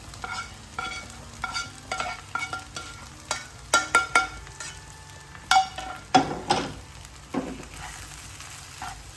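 Egg mixture sizzles steadily in a frying pan while a utensil stirs and scrapes it, giving repeated sharp clinks and scrapes over the continuous frying hiss, close up and with no talking.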